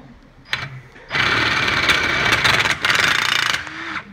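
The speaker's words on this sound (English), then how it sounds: "He just clips into your normal impact gun." An impact driver fitted with a combination drill-tap bit drives through a pilot hole in a piece of steel, giving a loud, steady buzzing rattle for about two and a half seconds with a brief pause partway, after a short click at the start.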